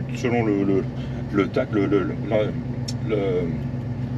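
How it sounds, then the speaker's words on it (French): Ford F-250 pickup engine idling at around 1000 rpm, a steady low hum running underneath someone speaking French nearby throughout. "là, le moteur est en marche au ralenti. On est à environ 1000 tours minute"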